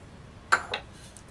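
A spoon clinking against a bowl while stirring sugar and dry yeast, two quick bright metallic taps close by in a quiet room.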